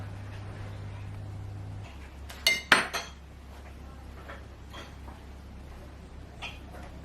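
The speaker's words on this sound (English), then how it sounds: "We're dishing out the curry." A serving spoon clinks against a pot while chicken curry with cardamom pods is dished out, giving a few sharp metallic knocks in quick succession over a quiet room hum.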